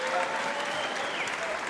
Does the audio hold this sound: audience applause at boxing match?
yes